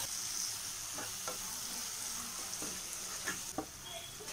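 Green chillies fry in hot oil in a pan of paneer butter masala with a steady close sizzle, while a spoon stirs and scrapes in several soft knocks.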